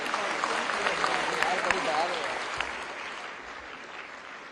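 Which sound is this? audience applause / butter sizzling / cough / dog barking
audience applause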